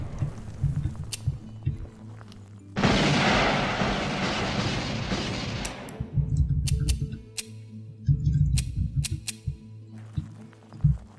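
A loud explosion blows up an obstacle in the video game Blood Will Be Spilled, a broad blast rumbling for about three seconds amid game sound effects and sharp clicks.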